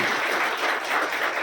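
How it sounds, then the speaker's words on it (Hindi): Audience applause at a girls' school Mother's Day event, a sustained, dense clapping from many hands that stays even and fairly loud throughout with no voices over it. "जोरदार तालियां होनी चाहिए इस पर"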